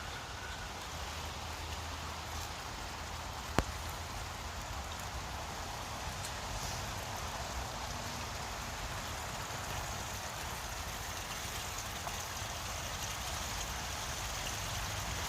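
Steady rain falling outdoors near a garden, a continuous even hiss at moderate distance with one faint click, no voices.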